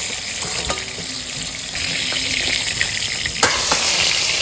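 Hilsa fish fries lightly in oil in a pan, a loud steady sizzle with scattered sharp pops and crackles running throughout, with no talking.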